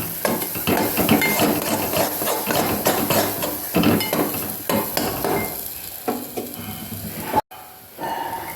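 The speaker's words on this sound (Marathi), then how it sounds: "कांदा लसूण हे सगळे पेस्ट काढले होती ना सगळे मसाले सगळं टाकलेले आहे तेल सुटेपर्यंत परतून घेऊ" Onion-garlic paste and spices sautéing in oil for a masvadi rassa, with a steady close sizzle broken by frequent knocks and scrapes of a stirring spoon against the pan, pausing briefly near the end.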